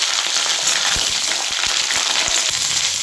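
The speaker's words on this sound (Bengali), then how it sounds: "আলু আর ফুলকপি একসঙ্গে আমি ভাজতে থাকবো।" Potato and cauliflower pieces fry in a pan with a loud, dense sizzle like steady hiss, broken by low knocks and bumps as the vegetables are moved about, with no talking.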